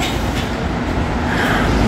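Inside a passenger train travelling between Gupo and Mulgeum stations in Korea, a loud, steady rumble of wheels and carriage fills the space without pause.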